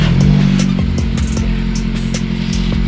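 Older Toyota Avanza engine running loud and close, a steady low rumble with clattery ticks throughout and no pauses.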